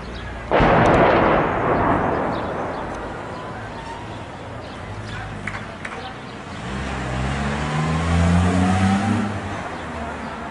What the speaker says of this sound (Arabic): قصف عشوائي